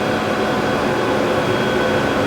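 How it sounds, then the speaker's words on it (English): A large-format printer runs off a metallic-film car wrap for a Dodge Demon in a wrap shop, giving a steady, even mechanical hum and whir that holds constant throughout, with no voices. "You can see the printer running in the background."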